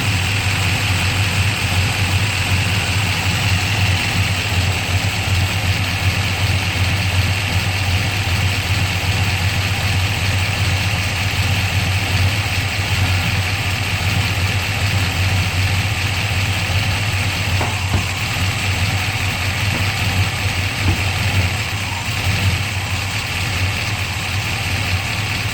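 A 1984 Chevrolet Monte Carlo SS with a solid lifter camshaft and freshly adjusted valves idles in gear, giving a steady, loud, close engine drone with an even valvetrain tick and no talking.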